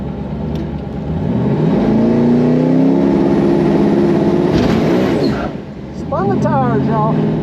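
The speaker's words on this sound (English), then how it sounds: "Spun the tires, y'all." A twin-turbo Hemi truck roars loud and close as it revs, the engine pitch climbing and holding while the tires spin. It cuts briefly near the end before a second revving burst follows.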